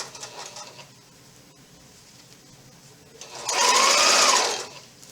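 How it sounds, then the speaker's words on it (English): A sewing machine stitches over pins while piecing an Ohio Star quilt block, a soft stop-start whir at first, then one steady close run of fast stitching lasting about a second, with no talk over it. "Yes, I do sew over pins."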